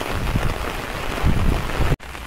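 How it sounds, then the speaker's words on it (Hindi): Steady rain falls across open farm fields in a village, a dense continuous patter with no voices, ending in a brief dropout. "बारिश हो रही है"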